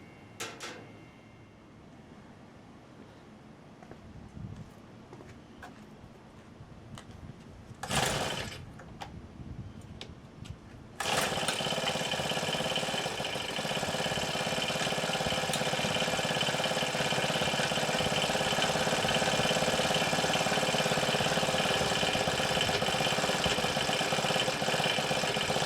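A Honda FG110 mini tiller engine makes a couple of brief pull-start attempts. Then the small engine catches and runs at a steady, buzzing idle, fairly loud and close, until the end.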